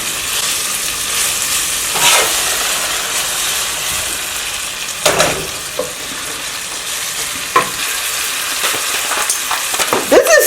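Ginger, onion and garlic fry together in a pan, a loud steady sizzle with periodic bursts of stirring scrapes and spatters, close and without talk.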